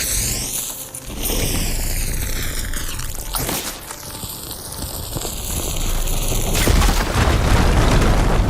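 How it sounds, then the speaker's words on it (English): A fire gleam blown up in the video game Horizon Forbidden West: a deep boom with a sharp blast midway and another heavy low rumble near the end, over sustained game music tones and no talking. "Should be able to blow up that fire gleam."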